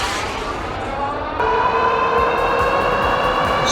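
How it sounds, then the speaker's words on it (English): Eahora Romeo Ultra II e-bike hub motor on twist throttle, a loud rising electric whine that steps up in pitch as it accelerates, over road and wind noise. "Let me just try the twist throttle here."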